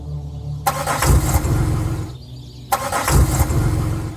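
A car engine cranks repeatedly without catching because of a dead battery, two separate churning starter bursts, each lasting over a second, with a short quiet gap between them.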